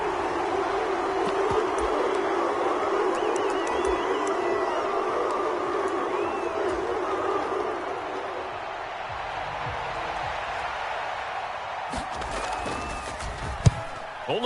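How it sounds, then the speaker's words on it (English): A football stadium crowd at a Browns vs Falcons game shouts and roars continuously during a replay, a dense distant wash of voices that stays fairly even, with a few sharper bursts near the end. "plenty of shouts from this crowd as they watch the replay"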